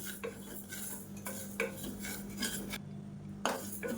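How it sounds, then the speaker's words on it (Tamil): Moong dal dry roasting in a pan, stirred with a metal utensil: repeated light scrapes and clinks against the pan over a faint low hum, close and quiet, with no voices. "இப்போ இது வாசனை வர்ற அளவுக்கு வறுத்து விட்டுக்கலாம்"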